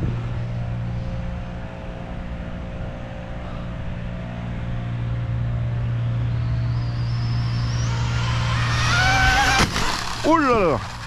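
A car spins its cold tyres to warm them up during a tyre crash test, a loud engine drone building into rising revving and squealing wheelspin near the end, with people talking over it.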